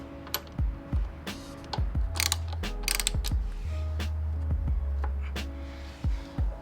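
A ratchet wrench loosens the bottom brake caliper bolt on a Ducati, giving a series of close, sharp ratcheting clicks in short bursts with brief metallic clinks between them.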